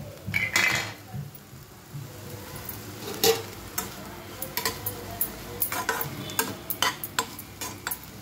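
Grated coconut being stirred into a banana flower tempering in a pan, with a run of repeated utensil scrapes and clinks against cookware, close and moderately loud, with no one speaking.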